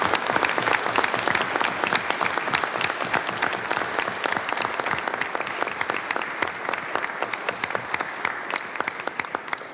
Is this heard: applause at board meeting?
yes